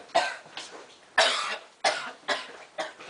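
A run of about six raspy coughs in a loose rhythm, close and moderately loud, with no talking in between.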